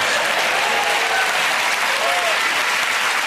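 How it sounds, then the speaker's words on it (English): Studio audience of a TV panel show breaks into loud, steady applause that fills the whole moment without letup. "Round of applause."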